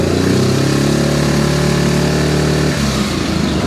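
Yamaha Grizzly 660 ATV engine held at high revs, around 5,000 rpm, during a charging system check: a loud, close, steady buzzing drone that dips briefly near the end.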